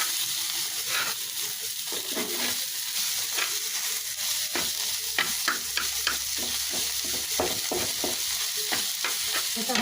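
Leafy greens being stir-fried in a pan give off a constant sizzle, punctuated by repeated sharp scraping and tossing strokes of a spatula that grow more frequent toward the end.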